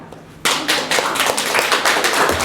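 Clapping hands from a classroom group at a teaching practice session bursts in suddenly after a quiet moment, then continues as a close, brisk patter of overlapping claps.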